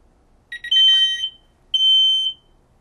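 A Powermax MCT425 smoke detector sounds during a test, giving two loud, shrill electronic beeps, each about half a second long, separated by a short pause in an otherwise quiet room.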